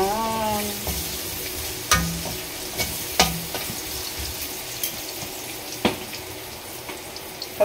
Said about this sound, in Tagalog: Sa pinagprituhan din na mantika, doon ko rin siya ginisa